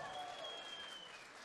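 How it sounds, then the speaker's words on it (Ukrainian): At an MMA event in Bukovel, a crowd claps in a dense, sustained wash of applause as a fighter is introduced, faint and distant, with a thin whistle-like tone riding over it. "Пані та панове, ваші оплески, Євген Солодовник!"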